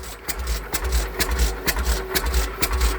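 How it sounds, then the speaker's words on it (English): An oilfield 208 engine being cranked by hand against clutch drag, with a steady run of loud mechanical thumps and rattles repeating roughly twice a second, close and unaccompanied by talk. "this motor here is pretty tight to crank"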